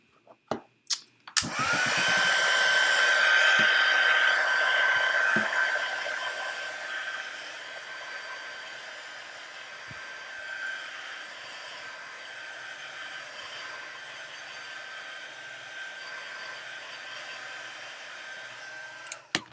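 A hair dryer starts up close and runs steadily to dry alcohol ink on a handmade pumpkin card, loud at first and then settling into a continuous whirring hum with a high whine for the rest of the clip.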